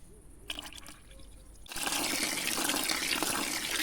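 Water and liquid fertilizer solution of urea and growth concentrate poured under young grapevine bushes, starting as faint trickles then turning into a steady, loud continuous pour close by, with no talking.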